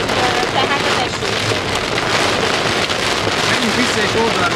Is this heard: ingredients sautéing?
no